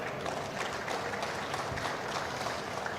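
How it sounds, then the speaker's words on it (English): An audience applauds a minister at a maritime conference and expo, dense continuous clapping from a large crowd that holds steady and full for the whole stretch. "Maybe a big applause for the Minister."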